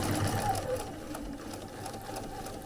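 A sewing machine runs steadily, stitching back over the same row of straight-line stitching, with a continuous whirring hum and no talk.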